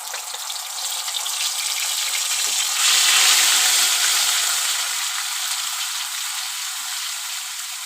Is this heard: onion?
yes